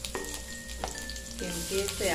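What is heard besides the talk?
garlic and onion frying in a pan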